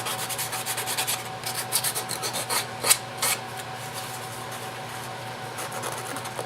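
Steady rhythmic rasping of sandpaper rubbed back and forth by hand over a wooden utility knife, close and fairly loud, in repeated strokes with no voices.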